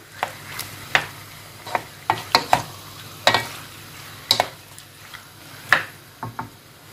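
Chicken filling for mini pastella gets stirred in a frying pan, with a soft background sizzle and sharp intermittent spoon taps and scrapes against the pan.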